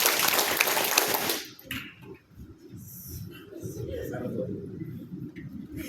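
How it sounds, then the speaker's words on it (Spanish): A roomful of class participants claps together several times in a fast, loud broadband burst over the first second and a half; afterward someone talks at moderate volume. "Cuatro aplausos."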